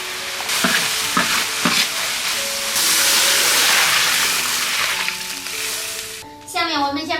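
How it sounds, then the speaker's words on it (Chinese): Chopped scallion, ginger and garlic with a spoonful of chili bean paste stir-fry in a wok, giving a loud, continuous hiss with scraping tosses, and a voice comes in at the end. "接下来我们炒里面放切好的葱姜蒜，再一勺豆瓣酱放进去，再给它翻炒"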